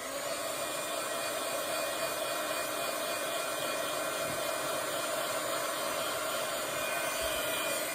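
A handheld craft heat dryer blows steadily to dry a freshly stamped mushroom design, a constant close whooshing hum with no break throughout.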